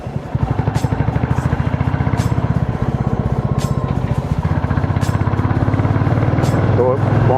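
A motorcycle rumbles steadily on a solo ride through a neighbourhood street, its engine pulsing loud and close the whole time while a rider talks over it.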